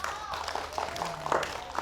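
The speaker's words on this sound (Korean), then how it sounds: "박수 한번 쳐주세요" Short burst of audience clapping at an ocean science lecture, a handful of scattered claps mixed with murmuring voices, brief and moderately close.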